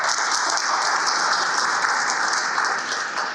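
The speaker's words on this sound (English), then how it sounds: "let's give him another round of applause" A sustained, even round of applause from a conference audience during an opening session of Statistics South Africa and the SADC Secretariat, steady throughout with no talk.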